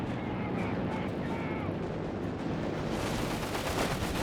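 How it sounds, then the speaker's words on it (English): Strafing-run gunfire from aircraft in Company of Heroes 3 rolls as a dense, continuous rumble of bursts, loud and steady throughout, with a caster talking over the battle. "We got a strafing run in here."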